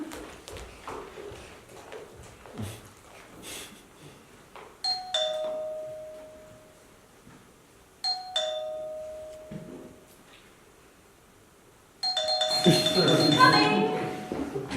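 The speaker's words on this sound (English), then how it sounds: "And then the doorbell went." A doorbell chimes several times in a live comedy sketch on stage, clear ding tones standing out over quiet room noise, followed by a louder burst of audience reaction.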